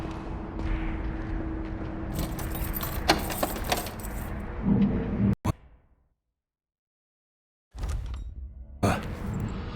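Keys jangle in the video game Dishonored 2, a close metallic clinking over game ambience, followed by a sudden silence and then more sound.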